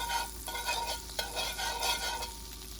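Butter melting in a hot pan, a steady soft sizzle with gentle stirring scrapes, quiet and close, no voices.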